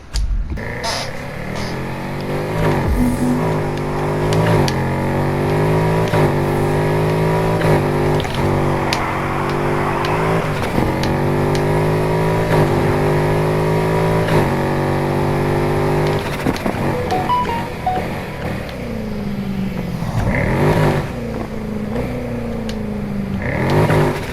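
Engine of a car in the racing game Need for Speed Heat, revving and shifting through gears repeatedly with rising and falling pitch, loud and continuous throughout.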